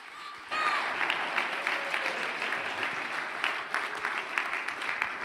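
Sustained applause from an audience for award winners at an Air Force ROTC change of command ceremony, steady dense clapping filling the room from a half-second in.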